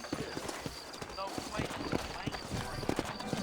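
Horse hooves clip-clop in quick, uneven steps on a dirt track in the western game Red Dead Redemption, with a steady ambient wash beneath them.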